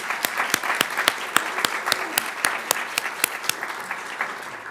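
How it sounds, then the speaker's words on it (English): Audience applause at a Women's History Month program: a moderately loud run of distinct, fairly sparse claps, crisp and rhythmic, thinning slightly toward the end. "give a round of applause for that"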